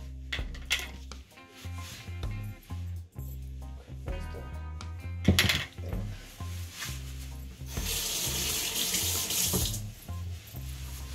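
A kitchen tap runs into a sink while a tablespoon is rinsed, water splashing and rattling against metal in uneven bursts, then a fuller steady gush of flowing water near the end.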